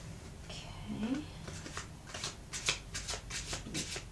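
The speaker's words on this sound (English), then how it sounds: "Clunky shuffle, clunky shuffle." A deck of tarot cards is shuffled close up in a quiet room with soft, clunky riffling and tapping, while someone speaks quietly over it.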